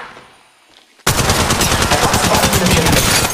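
Sustained automatic gunfire in Apex Legends Mobile starts abruptly after a quiet second and rattles on loud and continuous at close range to the end, with no talk over it.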